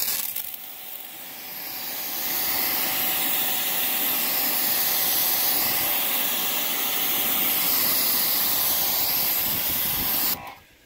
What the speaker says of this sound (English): Let's rinse it